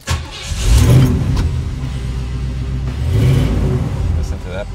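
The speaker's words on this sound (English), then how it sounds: "Listen to that purr. Gotta warm her up." A classic car engine rumbles and revs up twice as it warms up, swelling loudly then settling into a steady idle, with some voices faintly underneath.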